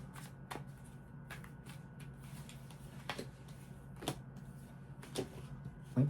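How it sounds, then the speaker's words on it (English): Tarot cards are shuffled quietly nearby, soft riffling with a series of brief sharp snaps at irregular intervals over a faint hum. "Feel like a couple more shuffles here"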